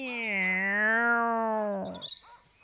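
A single long meow with a clear tone, voiced by a person imitating a cat, sliding slightly in pitch before fading.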